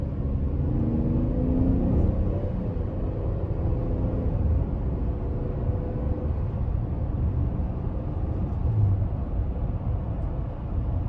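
A 2020 Chevy Traverse Premier Redline Edition V6 engine drones under throttle from inside the cabin, a steady low rumble that swells slightly as it revs, with no talk over it.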